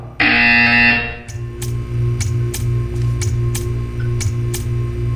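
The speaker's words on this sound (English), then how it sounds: "You will hear a buzzer." A loud, harsh buzzer sounds once for about a second in the Portal 2 video game, then stops, followed by a humming ambient drone punctuated by regular clicking ticks, with no talking.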